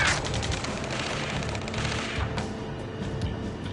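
Dense, sustained video-game gunfire from Ace Combat 7: rapid overlapping bursts and shots with heavy booms, loud and continuous for the whole stretch in a ground firefight.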